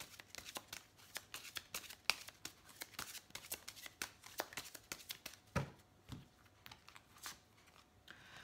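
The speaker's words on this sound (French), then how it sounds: "Je vais tirer une petite carte." Oracle cards being shuffled and drawn by hand, a quiet, close series of quick papery riffles and slaps with small taps, irregular and soft throughout.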